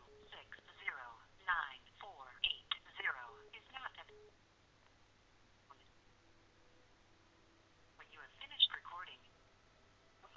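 A phone's incoming-call ring heard during a game session, bursts of tonal chirping in two groups, fairly quiet and close, with a gap of near silence between them.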